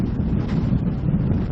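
Strong gusty wind buffets the microphone during a sailing championship heat, with winds near 30 knots, giving a loud, continuous low roar with no voices.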